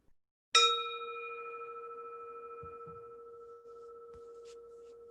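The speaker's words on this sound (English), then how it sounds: "So I'll ring the gong." A meditation gong is struck once with a sharp attack, then rings on as a long, clear, slowly fading tone with sustained pure overtones in a quiet room.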